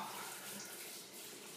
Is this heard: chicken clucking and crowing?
no